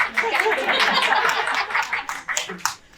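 An audience at a farming conference panel claps scattered and moderately loud, mixed with light chuckles and murmured talk.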